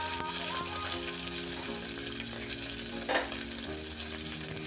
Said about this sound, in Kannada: ಈಗ ಈರುಳ್ಳಿ ಸ್ವಲ್ಪ ಕಲರ್ ಚೇಂಜ್ ಆಗೋವರೆಗೂ ಫ್ರೈ ಮಾಡ್ಕೊಬೇಕಾಗತ್ತೆ.